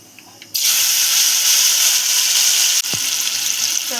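Pieces of raw mango hit hot oil with popped mustard seeds and asafoetida, breaking into a sudden loud, hissing sizzle that holds steady, briefly interrupted by a soft thud of a utensil.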